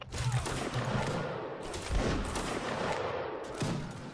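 A Napoleonic Wars game volley from line infantry muskets, a ragged cluster of cracking shots and crackling reports rippling over a few seconds, with brief voices.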